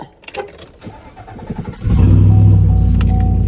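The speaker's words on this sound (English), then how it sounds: "hopefully my car starts" A car with a 392 engine starts: a short stretch of uneven starter cranking, then the engine catches and settles into a loud, steady, close-up idle.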